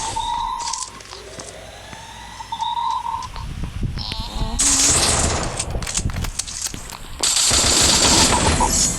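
Rapid bursts of automatic gunfire and single shots in a video game, loud and close, with busy overlapping effects and a rising siren-like tone.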